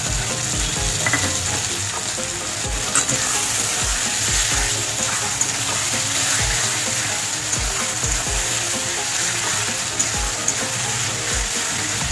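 Two chopped medium tomatoes go into chicken curry frying in a pan, bringing a loud, continuous close sizzle with light stirring scrapes and no talking.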